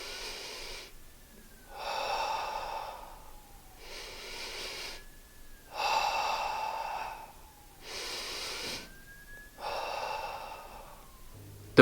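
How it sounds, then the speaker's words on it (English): Exaggerated, controlled, steady breathing demonstrated during backbend stretching, slow audible inhales and exhales alternating in an even rhythm of about five breaths, close and quiet with no talking. "So I'm gonna show you guys exactly what your breathing should sound like."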